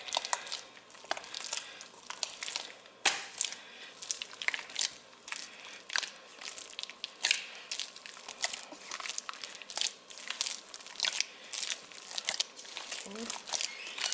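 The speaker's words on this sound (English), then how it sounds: "So I'm just folding it one on top of the other and squishing it. This is kind of a kneading process." Sourdough dough is folded and squished by hand, giving soft, irregular wet crackles and squelches, close up and steady with no talking.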